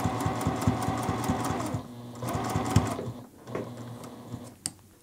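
A domestic sewing machine stitches a quilt label onto a quilt, running in fast, steady bursts with a brief pause mid-way when the needle stays down and the work is turned, then resuming close and clear.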